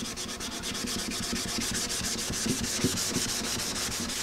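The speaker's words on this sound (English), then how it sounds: "Okay, so we're just going to sand that smooth." Steady abrasive rubbing of sandpaper on the wood of a handmade Martin 00-style acoustic guitar, continuous back-and-forth scratching with no pauses, close and moderately loud.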